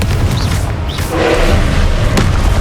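A Confringo fire spell explodes in Hogwarts Legacy, a deep booming blast that rumbles and sustains through the clip with a short whooshing flare partway through, loud and close.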